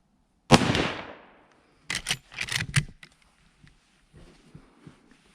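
A Winchester Model 94 .30-30 lever-action rifle fires at a steel plate: one sharp report with a decaying tail, followed a second later by a cluster of metallic clattering and clicks, then faint scattered ticks.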